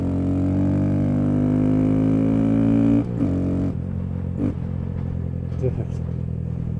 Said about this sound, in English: I'm absolutely amazed at how loud this exhaust is.